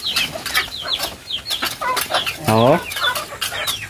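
Young chicks and ducklings chirping outdoors, a dense stream of high peeping calls close by, with a brief louder squawk in the middle and a low voice murmuring underneath.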